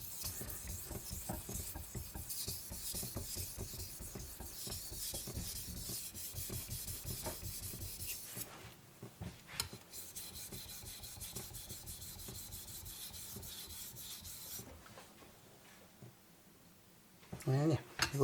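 A knife is drawn across a Naniwa "new omurato" whetstone to grind out chips, giving a steady rhythmic rubbing and scraping with brief pauses, fairly quiet and close.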